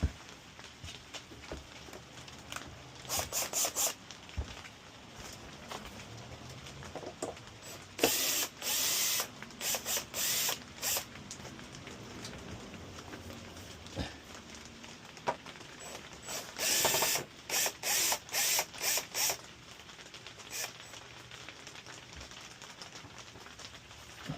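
Screws being removed from a CFMoto motorcycle visor, with bursts of sharp ratcheting clicks in short irregular runs, close and fairly quiet.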